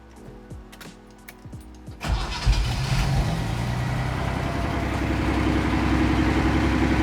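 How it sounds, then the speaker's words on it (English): A 48-year-old Datsun 240Z, raised in the air and left in first gear, cranks briefly and then catches. Its engine settles into a loud, steady running note that holds to the end, with no talk over it. "I want to try starting it in first gear since it's in the air and see if the rear tires move"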